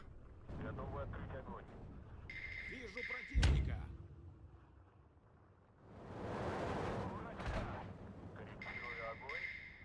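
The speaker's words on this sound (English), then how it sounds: "Just loads and loads of mortar fire." Mortar fire in the WWII strategy game Steel Division 2: a sharp, loud blast near the middle, then rolling rumbling impacts and distant crumps over steady battlefield noise, with someone talking across much of it.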